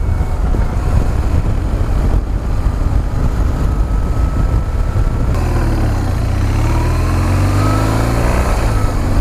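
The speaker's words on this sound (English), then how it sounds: "So here we'll do some clutchless shifting." Motorcycle engine pulling steadily through clutchless upshifts, its drone dropping and climbing again at each gear change, loud and close throughout with constant wind and road rumble.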